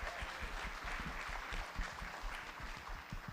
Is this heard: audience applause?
yes